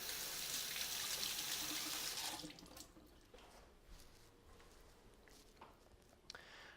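Tap water running into a sink while a coffee press is rinsed, a loud rushing stream that stops after about two seconds, followed by faint drips, clinks and handling noises.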